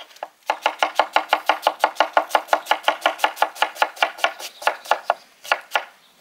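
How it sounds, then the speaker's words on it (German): A knife slicing onions wafer-thin for Hunsrücker Spießbraten, a fast steady series of about thirty crisp cuts against a board, close and clear with no talking. "Wir haben jetzt ein paar schöne Zwiebelchen, hauchdünn geschnitten."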